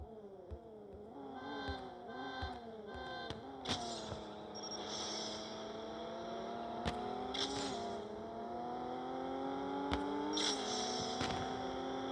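Car engine revving and shifting gears in the CSR Racing mobile drag racing game, a rising whine that climbs repeatedly with sharp clicks at each shift, steady and moderately loud with no talking.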